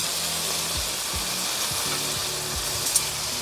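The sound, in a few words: tapa meat frying in a pan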